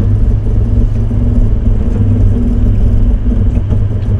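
Toyota Land Cruiser driving itself slowly through sand on crawl control, a loud steady low engine rumble and drivetrain whir that holds evenly throughout, heard from inside with no talking.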